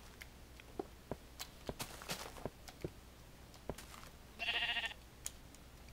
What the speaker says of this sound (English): Up here, more sheep.